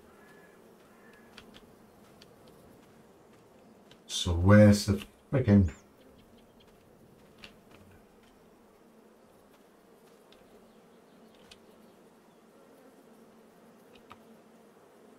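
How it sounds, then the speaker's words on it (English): Bees buzzing around a farm in Farming Simulator 22, Maypole farm: a low, steady drone hums throughout at moderate level, with a brief stretch of someone talking partway through. "There's loads of bees here."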